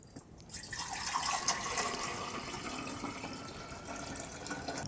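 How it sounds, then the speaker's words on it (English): Homemade oat milk runs through a fine strainer on a second pass, a steady soft trickle of liquid falling into a container, continuous and close for about five seconds with no talking. "Now, after our first straining, I'm going to go for a second straining."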